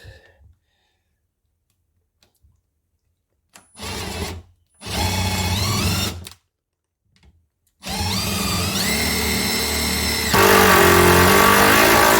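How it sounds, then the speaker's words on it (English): A power drill with a 1 1/8 inch hole saw spins up in several bursts, whining and rising in pitch, with short pauses between runs and a longer, louder final stretch. "draw our holes in with this Sharpie and get ready to drill"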